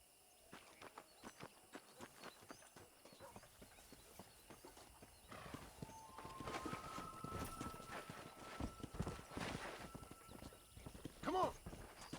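Horses in Red Dead Redemption trot and gallop with steady clip-clopping hooves on dirt, building pace over several seconds, with a whinny near the end and faint background game ambience.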